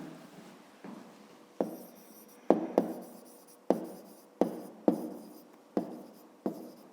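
Pen writing by hand on paper while working a fifth-grade maths exercise: close, dry scratchy strokes punctuated by about ten sharp taps at irregular intervals, quiet and alone with no voices.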